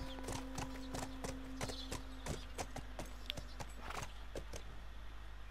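Steady clip-clopping of horse hooves at a walking pace in the video game The Last of Us, over a constant low hum and background noise, with occasional sharper clicks.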